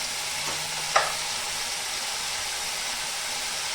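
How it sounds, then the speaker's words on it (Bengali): Spice masala of salt, turmeric, cumin, coriander and Kashmiri chili powders frying in a pan for potol pasinda, a close, continuous sizzle with one brief scrape of stirring early on. "এখন আমি মশলাটা খুব ভালো করে ভেজে নেব"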